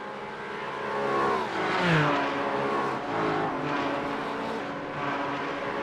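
Ford and Porsche GT4 race car engines in a racing video game rev and shift, their pitch climbing and dropping through gear changes as the cars sweep past, a steady loud engine drone throughout with no talking.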